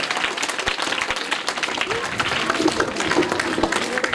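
An audience at a village book launch claps warmly for a guest, a brisk, sustained patter of many hands at close range, with a voice briefly under it.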